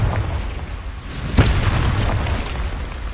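A single loud booming explosion from the Confringo blasting spell in the video game Hogwarts Legacy, a sharp burst rising out of a steady rumble of game sound and fading quickly.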